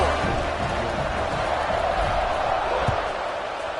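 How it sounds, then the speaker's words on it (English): Football stadium crowd at a Baylor versus Arizona State game buzzing after a touchdown, a steady dense roar of many voices filling the whole clip at constant loudness, with a brief thump near the end. "this crowd is buzzing after that last score"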